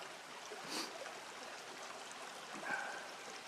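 A babbling brook flows beside a wooded stretch of the Manistee River Trail, a soft, steady trickle and gurgle heard faintly on its own with no voices.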